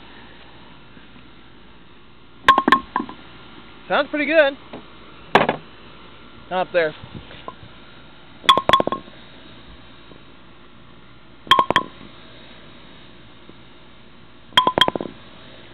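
A Brunswick Max bowling pin is struck outdoors in light rain, giving about seven sharp, ringing hollow knocks spaced a second or two apart. Some hits come in quick doubles, and brief talk is heard between them.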